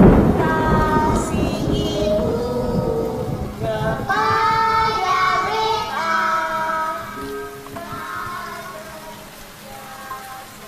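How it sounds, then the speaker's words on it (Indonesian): Steady rain patters throughout with rumbling thunder. Children's voices and a singing or chanting tone sound over it in the foreground. "Hujan."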